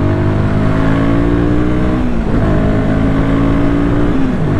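A Royal Enfield Guerrilla 450 motorcycle accelerates hard in a kickdown to overtake, its single engine droning loud and close with rising and falling pitch as it pulls through the gear.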